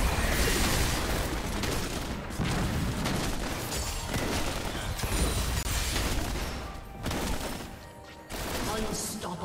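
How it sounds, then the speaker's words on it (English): Loud, dense game combat from League of Legends as a turret is destroyed in a Zed versus Yasuo mid-lane match: continuous bursts of blasts and crashing impacts with sharp spikes, while an announcer voice speaks over the clash. "Red team's turret has been destroyed."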